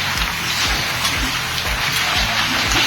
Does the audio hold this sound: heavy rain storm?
yes